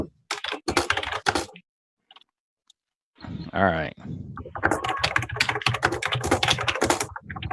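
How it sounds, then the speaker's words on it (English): Rapid typing on a mechanical keyboard, bursts of sharp clicky keystrokes close to the microphone, pausing briefly while a voice speaks, then resuming in a dense flurry. "Jim, what kind of mechanical keyboard you got?"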